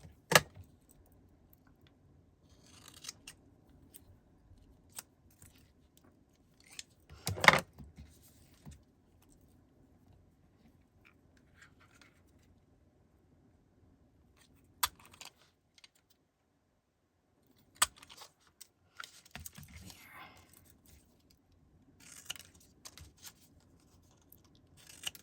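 Scissors trimming little white fabric trim off scraps, sparse quiet snips and small clicks with long near-silent gaps between them, no talking.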